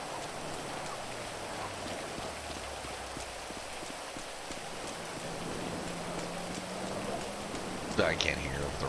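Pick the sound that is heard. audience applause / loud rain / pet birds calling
loud rain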